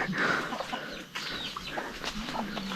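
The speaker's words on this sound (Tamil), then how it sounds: "கோழி பயங்கரமாக ஓடுதுங்க." A chicken on a coffee plantation clucks while it runs, giving several short, close clucks over a busy, noisy outdoor background.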